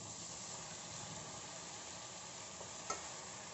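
Paneer and baby corn masala sizzles faintly in a pan while being stirred, a steady low frying hiss with one small clink of the spoon near the end.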